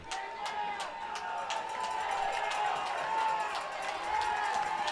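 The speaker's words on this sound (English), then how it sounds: "As you can hear from the crowd, that it's a pretty raucous bunch here at Cal Lutheran University." Raucous football crowd noise at a Cal Lutheran University college game against Southwestern, a steady broad roar with scattered shouts and whistles from many spectators, continuous and fairly distant throughout.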